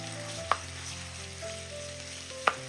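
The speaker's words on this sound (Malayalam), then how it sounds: "ഇതിലേക്ക് ഒരു കൈപിടി കറിവേപ്പിലയും കൂടി ഇട്ട് കൊടുക്കാം. ഒന്ന് ഇളക്കി കൊടുക്കാം." A handful of curry leaves frying in a pan over low sizzle, with a faint steady hiss and two sharp clinks of the stirring spoon against the pan, close by and without speech.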